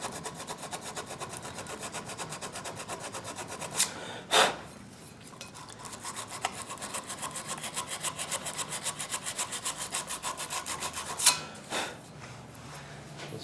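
A knife blade is sanded by hand with 150 grit sandpaper: a fast, steady stream of close, gritty rubbing strokes, with two brief louder knocks or handling sounds partway through.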